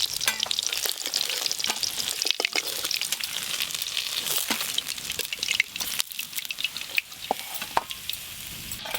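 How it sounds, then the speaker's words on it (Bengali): Rohu and catla fish pieces sizzle and crackle in hot oil, a steady bright frying hiss with scattered pops and spits. "এই যে এই মাছগুলো হলেই সব ভাজা হয়ে যাবে।"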